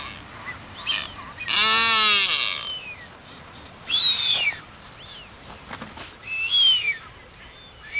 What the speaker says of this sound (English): these blue-footed boobies emit their characteristic whistles when the breeding season begins.